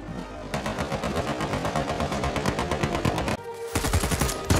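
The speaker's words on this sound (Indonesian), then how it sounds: "melepaskan tembakan beruntun ke arahnya" Rapid automatic gunfire rattles in long sustained bursts, loud and close, with a brief pause before another volley erupts.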